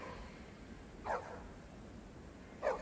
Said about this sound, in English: Yes, the famous movie dog.